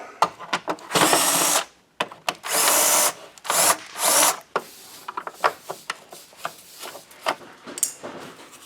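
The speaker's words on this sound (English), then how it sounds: "Now we're just going to pull the screws out." Screws are backed out of the back piece of a Hoover Windtunnel UH70200 bagless vacuum with a power driver. Several close bursts of whirring alternate with quieter clicks and plastic handling sounds, and no one speaks.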